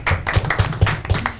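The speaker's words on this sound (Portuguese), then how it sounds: "Palmas pra Rosa." A small audience at a theatre discussion event claps for Rosa, a few hands striking in quick, fairly even pulses, close and clear, with no talking over it.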